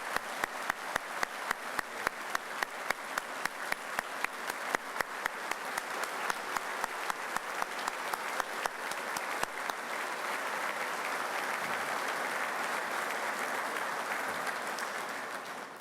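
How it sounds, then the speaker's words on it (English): An audience at a state fire school firefighter award ceremony applauds the honor guard, with crisp rapid clapping that settles into a steady, dense ovation lasting about fifteen seconds. "a round of applause for the honor guard"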